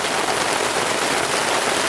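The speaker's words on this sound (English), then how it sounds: "hopefully the rain will let up soon" Steady rain patters at a campsite in the Uwharrie woods, a dense even hiss, probably drumming on a tent or tarp, loud and close with no pauses or voices.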